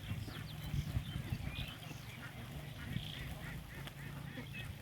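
A flock of laying ducks quacking and honking repeatedly, overlapping calls at moderate distance over a steady background hiss of evening rain.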